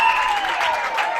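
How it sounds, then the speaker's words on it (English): A crowd at a Class C state tournament baseball game roars and applauds in a steady, dense wash of cheering, loud and continuous with no voice above it. "And the crowd goes wild."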